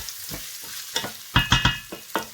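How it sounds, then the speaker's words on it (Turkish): Rice sautéing in melted butter in a pot, short scraping strokes of stirring in quick succession over a soft sizzle, close and distinct. "pirinçlerimizi koyduktan sonra akabinde hemen tereyağı ilave ediyoruz ve güzelce kavuruyoruz"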